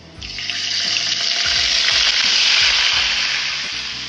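Onions fry with white sesame seeds in ghee for a bottle gourd sabzi. A loud, bright sizzle swells up, holds steady, then eases slightly, with soft low knocks of stirring underneath and no speech.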